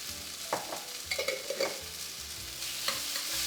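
Pepper paste being stirred into onions in a pan, soft scraping strokes in a few clusters over a low, steady sizzle, fairly quiet and close.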